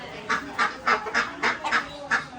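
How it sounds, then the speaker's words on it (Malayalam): A run of loud, nasal honking quacks repeats in quick, uneven bursts, like ducks calling close by, with no other voices. "ഇവിടെ കുറേ താറാവ് കോഴിയൊക്കെ ഉണ്ട് കേട്ടോ"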